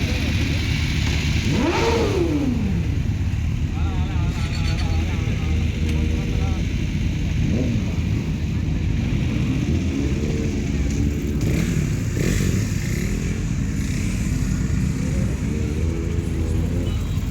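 A sports bike on a Sunday ride, its engine rising and falling through revs with pitch sweeps as it accelerates, loud and continuous under constant wind rush, with music playing over it.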